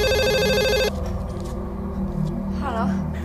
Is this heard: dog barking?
no